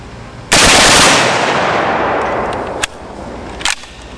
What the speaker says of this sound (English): This is the 5-round HK magazine. Full auto, of course.